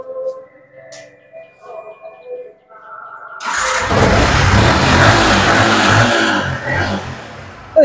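A used motorcycle at a cheap bike showroom near Kolkata starts up after a quiet stretch with faint background sounds, then runs loud and steady with slight revving, close by.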